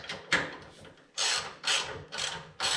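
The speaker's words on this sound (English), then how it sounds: "I go ahead and tighten these up using a 10mm socket" Ratcheting clicks from a 10mm socket wrench tightening bolts on a Predator 9000 watt portable generator, heard as several short bursts of rapid clicking with pauses between, close and fairly loud.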